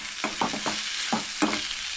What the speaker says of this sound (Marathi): सगळो कांदो ॲड केलो आनी बरो परतून घेवंक जाय हो कांदो.